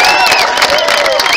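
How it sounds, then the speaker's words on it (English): Audience at a golf event at Goat Hill Park applauding and cheering, a dense close wash of clapping with whoops over it for a brief burst. "Give him a round of applause"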